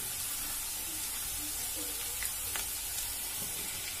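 Chopped onion frying and being stirred in a pan for vegetable chicken pulao, giving a steady soft sizzle with faint scraping, quiet and continuous with no talk.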